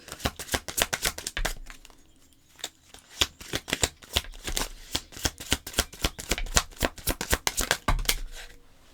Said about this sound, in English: Well, that's a big stack of cards. That's too many.